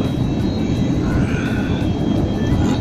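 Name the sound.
airplane engine heard from inside the cabin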